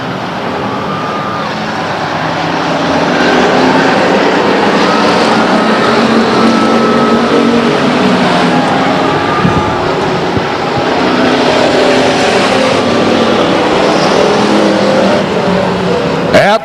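Stock cars race at Stockton 99 Speedway, a loud, continuous roar of engines that swells and fades as the pack laps the track, with no talk over it.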